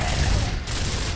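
Gunfire in the video game Gears of War, a dense rapid burst of shots packed tightly together, loud and close, with a brief dip before the firing resumes.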